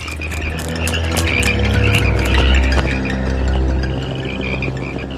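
Bullfrogs croak in a dense, steady chorus from a Simpsons episode, with low throbbing calls layered over faint clinks, continuous and fairly loud throughout.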